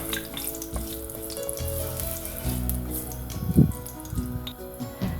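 Whole garam masala spices, cloves and cardamom, fry in hot oil for a lamb curry, giving a soft steady sizzle at close range with a few faint clinks and one brief louder bubbling burst, no talk.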